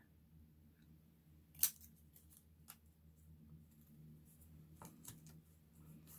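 Scissors snip a single piece off a strip while making Christmas craft clusters: one sharp, close cut stands out, followed by faint handling rustles in a quiet room.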